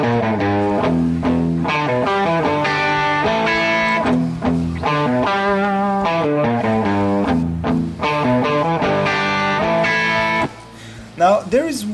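Two layered distorted electric guitar tracks, one from Guitar Rig 5 and one from Overloud amp software, playing a dense chordal riff together, loud and continuous with rhythmic stabs, then a brief pause and a final few strums.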